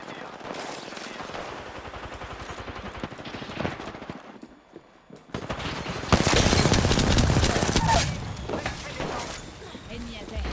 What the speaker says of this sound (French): Je suis sous les tirs.